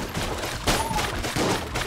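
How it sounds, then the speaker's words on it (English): Tear Jerker gun firing in the Enter the Gungeon video game on Nintendo Switch, a quick cluster of bursting shot sounds over busy game audio, loud and close. "Oh, this is the Binding of Isaac gun. The Tear Jerker,"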